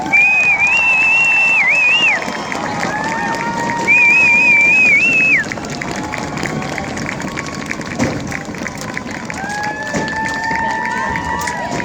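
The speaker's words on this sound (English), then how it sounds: "Parents, can we have a nice round of applause for our students again one more time?" Parents give a round of applause for students at a 2021 high school band state pep rally, sustained clapping and crowd noise with shrill whistles cutting through at intervals.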